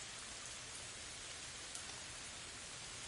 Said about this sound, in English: Imagine the rain washing over you, renewing you with its purity.